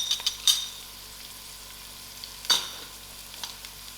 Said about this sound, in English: So this has to fry together.